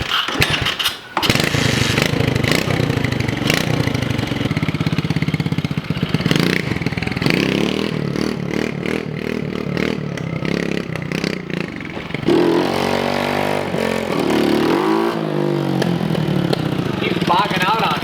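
A pit bike engine warms up and revs, a loud, raspy small-engine drone that rises and falls in bursts, sounding close.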